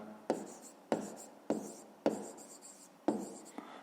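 Pen writing an answer by hand on paper, five distinct scratchy strokes spaced about half a second apart, close and soft, with no talk.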